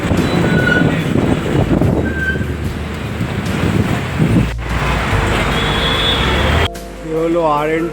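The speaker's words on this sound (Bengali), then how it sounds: "এই মেট্রো যাচ্ছে দেখুন" Kolkata metro train passing near Mukundapur, a loud, close rushing rumble with wind buffeting the microphone, dropping off near the end as a brief tonal sound rises.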